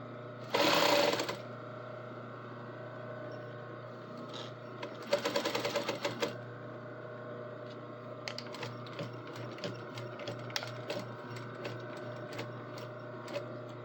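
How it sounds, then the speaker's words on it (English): Serger sewing machine stitching a kilt waistband runs in two short, loud, rapid whirring bursts, separated and followed by quieter mechanical clicks and fabric handling. "Because it's all going to get serged and cut off at the end anyway."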